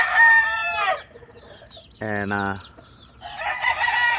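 A rooster crows loudly and close by, with a second crow after a short pause; a brief spoken word comes in between.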